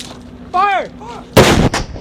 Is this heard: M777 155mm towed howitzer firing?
yes